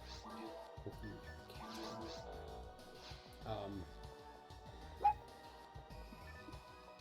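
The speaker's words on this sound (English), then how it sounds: "Puppy wants out." A puppy barking and yipping to be let out, with several short barks that sound fairly faint. Someone talks over the barking.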